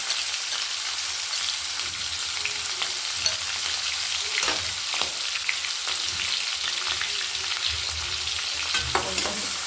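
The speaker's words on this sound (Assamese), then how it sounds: "কেৰাহী গৰম হৈ গ'ল। এতিয়া দি দিছোঁ পিঁয়াজ।" Chopped onion sizzles in hot refined oil in a wok for pasta, a dense, close crackling hiss with occasional scraping stirs, steady and loud with no voices.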